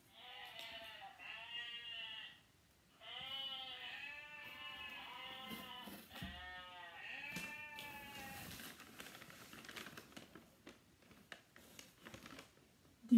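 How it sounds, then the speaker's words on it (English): Several sheep bleats, loud and close, wavering calls repeated with short pauses, followed by quieter rustling and shuffling noises. "Did you guess it was a sheep?"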